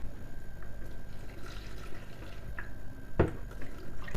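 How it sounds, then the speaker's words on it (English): About a quarter cup of water poured over washed peppers for an African hot sauce, a soft, close trickle with scattered drips, alone and without talk. "To these, I'm just going to add a little bit of water."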